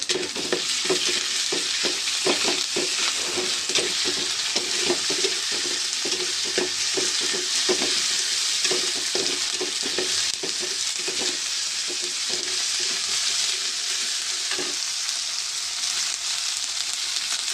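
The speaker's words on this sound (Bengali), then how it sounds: "তার জন্য রসুন বাটা, আদা বাটা দিয়ে একটু ভেজে নেব" Tangra fish fries in a pan with garlic and ginger paste, a steady close sizzle broken by frequent rhythmic spatula scrapes and taps, with no one talking.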